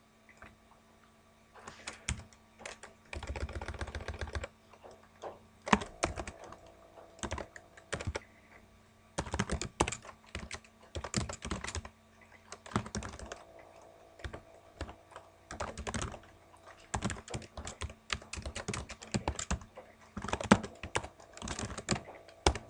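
Close typing on a computer keyboard, fast bursts of clicking keystrokes separated by short pauses, heard alone against a quiet background.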